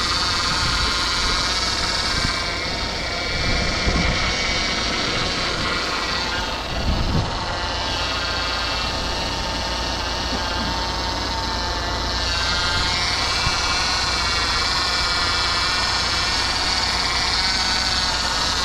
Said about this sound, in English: That pump is noisy.